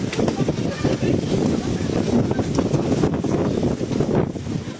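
Destructive storm wind from a severe thunderstorm in northern France roars steadily and buffets the microphone with loud, rumbling gusts that never let up.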